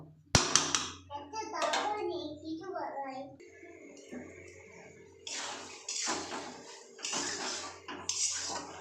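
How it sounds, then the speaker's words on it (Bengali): Spiced masala with chickpeas is stirred and sautéed in a pan, the ladle scraping and clattering against the metal in irregular bursts, and a voice talks over much of it. "দেখুন সুন্দর করে কষানো হচ্ছে"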